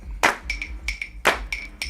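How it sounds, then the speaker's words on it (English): Crisp handclaps in a music track, boosted in level, strike loud and close in an uneven rhythmic pattern, about six sharp claps with short ringing tails. "brought the level of the claps up"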